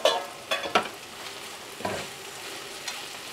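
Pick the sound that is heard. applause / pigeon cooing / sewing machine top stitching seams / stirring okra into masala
stirring okra into masala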